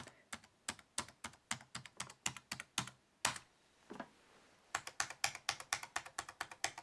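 Rapid soft key clicks from a Lenovo ThinkPad T61 rubber dome laptop keyboard in irregular bursts, with a brief pause midway before the quiet, muffled typing resumes.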